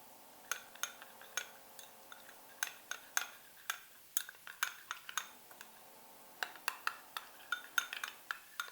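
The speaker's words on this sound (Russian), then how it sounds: "Перемешаю и добавлю." Spoon clinking and scraping against a pan while rice flour is stirred into onions, a quick irregular run of sharp metallic taps with brief pauses, close and fairly quiet.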